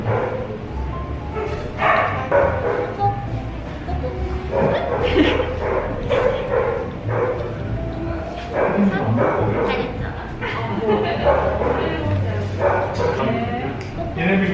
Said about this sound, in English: I was worried about the dogs, but they seemed very happy to be able to be pet and fed all day long.